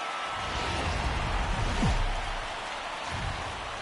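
Rain falls at Coors Field in MLB The Show 19, a soft steady hiss of drops with a faint low rumble underneath and no talking.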